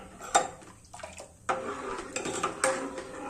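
A spoon stirs and scrapes inside an uncovered pot of buttermilk kadhi, with a few sharp clinks against the metal and soft sloshing between strokes.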